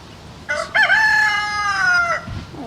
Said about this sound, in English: Oh, the rooster's out.